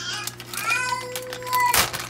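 A baby gives a short, high, wavering cry in the background, rising and falling over a couple of seconds.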